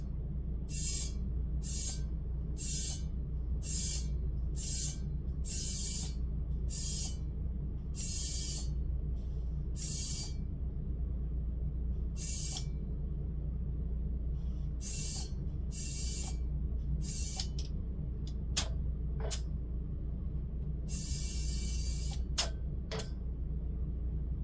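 A hand pump pre-oils a vintage Lamborghini V12 engine. Regular bursts of spraying hiss repeat over a steady low hum, then grow sparser, with a few sharp clicks toward the end.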